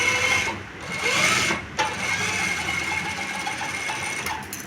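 A sewing machine stitches a seam on a kali shalwar in a fast, steady mechanical whir. It runs close and continuous, with brief pauses near the start, and no one speaks over it.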